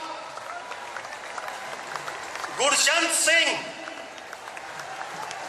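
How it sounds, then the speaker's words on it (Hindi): An audience applauds Olympic medal winners being honored by Chief Minister Yogi Adityanath; steady clapping runs throughout beneath a man announcing names over a loudspeaker. "आप लोग तालियों से स्वागत करिए ये वीर विभूतियों का"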